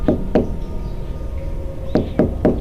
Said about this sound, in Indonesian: Pintu kamar saya diketuk seseorang, seperti meminta untuk masuk.